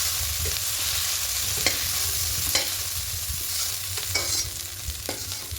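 Prawns or greens fry in mustard oil in a pan, a thick continuous sizzle with a low rumbling undertone and a few scattered scrapes and taps from stirring.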